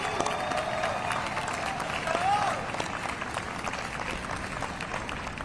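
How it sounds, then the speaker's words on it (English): A crowd at an outdoor Juneteenth flag-raising ceremony in downtown Chicago applauds task force members with sustained, dense clapping. A faint whistle or cheer cuts through midway. "Please give these incredible Chicagoans a round of applause."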